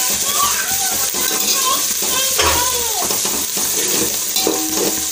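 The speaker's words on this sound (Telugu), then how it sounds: "పుదీనా, కొత్తిమీర వేసుకొని మంచిగా కలుపుకోవాలి" Coriander and mint stirred into a curry frying in a pan, with loud continuous sizzling and repeated scraping and clanking of a spoon against the pan, up close.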